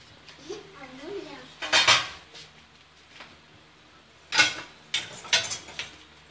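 Molokhia soup being whisked in a pot, with a metal whisk clattering against the sides in two short bursts amid quieter kitchen handling and a brief voice near the start.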